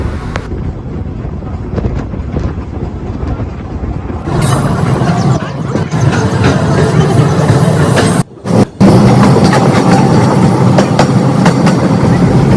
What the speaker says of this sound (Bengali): তারপরে আমাদের ট্রেনটি আবারও ছুটে চলতেছে আমাদের গন্তব্যের উদ্দেশ্যে